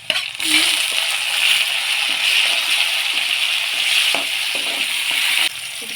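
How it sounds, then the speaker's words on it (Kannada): Tomato goes into onions fried red in a spoonful of hot oil for a North Karnataka dill-leaf palya, with a steady close-up sizzle and a few light clinks and stirring knocks from the pan. "ಉಳ್ಳಾಗಡ್ಡಿ ಕೆಂಪಾಗಿತ್ತು ಇದಕ್ಕೆ ಟಮಾಟಿ ಹಾಕ್ತೀನಿ"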